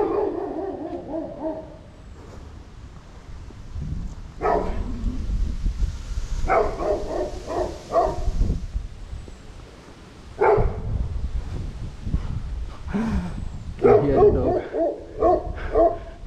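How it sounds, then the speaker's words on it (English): A dog barks repeatedly in a residential neighborhood of houses for sale in Ghana, with short, loud yaps coming in clusters alongside outdoor background noise. "Dog trying to distract my vlog"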